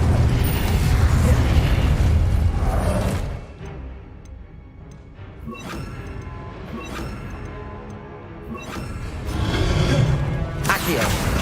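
Incendio fire spells in Hogwarts Legacy whoosh and flare repeatedly, with loud fiery bursts at the start and end, a quieter stretch of clicks and pops between, and game ambience underneath.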